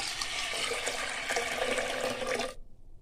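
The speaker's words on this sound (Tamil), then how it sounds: "இப்போ கொஞ்சம் தண்ணி சேர்த்துக்கலாம்." Water pours into a pot of lentils in a steady, splashing stream for a couple of seconds, then stops abruptly.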